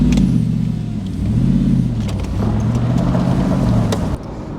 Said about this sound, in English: So you're joining me out on the road in Audi R8 Spider